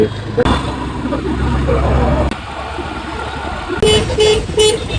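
Busy city road traffic with engines rumbling and car horns tooting in short bursts, people talking close by over the noise.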